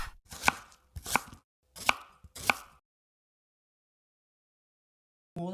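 Four sharp knife chops cut a lime on a board for a quick lime pickle, spaced about half a second apart, then a pause before a short snatch of sound at the end.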